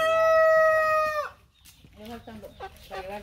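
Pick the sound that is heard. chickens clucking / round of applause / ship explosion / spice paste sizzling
chickens clucking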